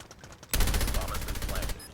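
Rapid automatic gunfire from the Call of Duty Mobile video game erupts after a quiet half-second and rattles on as one loud, dense burst for over a second before cutting off.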